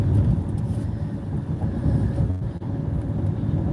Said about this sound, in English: That's a plane landing